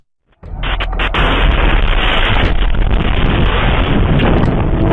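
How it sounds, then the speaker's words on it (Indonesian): A rocket strike on a residential area in Kiryat Shmona caught on CCTV: after near silence, a sudden blast gives way to a loud, sustained roaring rumble with wind-like noise and a few pops, continuing to the end. "Serangan ini memicu ledakan besar dan kebakaran."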